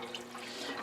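Water being poured off Irish moss left soaking, a brief splashy trickle into a sink, close and fairly quiet.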